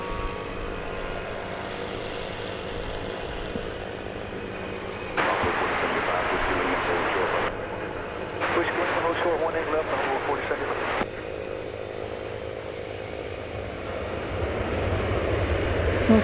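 An incoming airliner approaching DFW Airport rumbles steadily throughout, its engine noise swelling in broadband bursts near the middle, while a voice talks over it and radio chatter is present.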